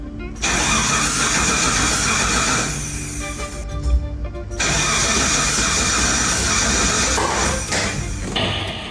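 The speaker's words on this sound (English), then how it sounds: "On the first attempt, the engine turned but didn't start" An old Mitsubishi engine cranks repeatedly without catching, a loud, continuous starter churn with a brief pause midway before cranking resumes, close and steady.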